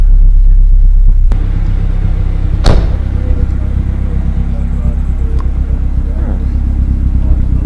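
A Ford Sierra Cosworth 4x4 idles with its engine left running, a loud, constant low rumble close by, broken by a brief sharp clatter near the middle.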